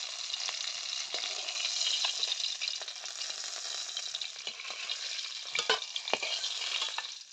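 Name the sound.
fish head frying in mustard oil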